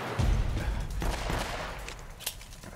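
Gunfire from a powerful weapon in the game Uncharted: Drake's Fortune Remaster, a dense burst of heavy shots with deep booming low end, one sharper crack near the end, no voice over it.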